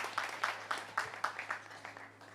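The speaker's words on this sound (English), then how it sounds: "So a round of applause for all engineers" Audience applause at a County Fleadh traditional music festival in Fintona, County Tyrone, a crowd of hands clapping in a steady, moderately loud run of claps that fades slightly toward the end.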